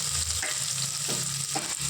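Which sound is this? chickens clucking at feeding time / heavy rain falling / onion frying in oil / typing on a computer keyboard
onion frying in oil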